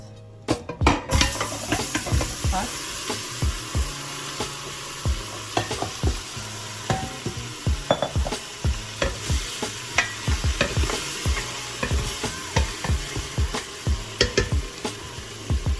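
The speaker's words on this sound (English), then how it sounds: "I am going to put the meat now because the oil is already hot" Cow foot meat fries in hot oil in a Jamaican-style pot, with a steady sizzle under repeated clanking stirs of a utensil against the pan, close and moderately loud with no talking.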